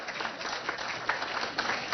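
An audience applauding at a prime minister's event, steady hand-clapping at moderate distance, fairly faint and continuous throughout.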